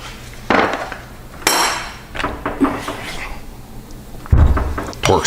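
A car brake rotor comes off its wheel hub with several loud metallic clanks and knocks of hard metal on metal, spaced irregularly, with a voice speaking briefly between them.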